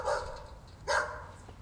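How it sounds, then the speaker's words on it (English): A deafblind man's vibrating sensory wristband picks up a dog giving two short barks, moderately faint and alone, with a brief pause between them. "Oh, dog barking."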